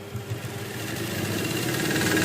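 A sewing machine runs steadily while stitching a folded half-inch hem on a kurti sleeve, a continuous close motor hum with a rapid mechanical rhythm that gradually grows slightly louder.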